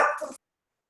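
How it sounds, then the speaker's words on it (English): A single short dog bark, close and fairly loud, cut off abruptly and followed by silence. "my dog is barking"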